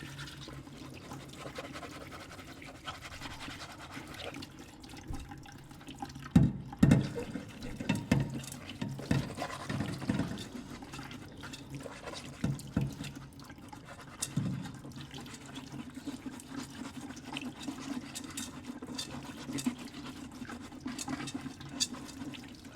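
Water drains and splashes through a sieve during wet sieving of soil in a lab, a faint running trickle with bursts of sloshing and scraping near the middle.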